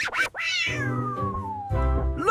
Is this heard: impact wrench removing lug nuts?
no